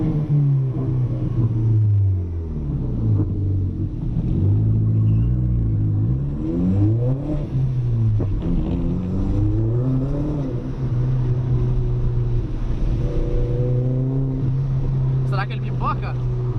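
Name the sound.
Audi A3 1.8T turbo car accelerating in the rain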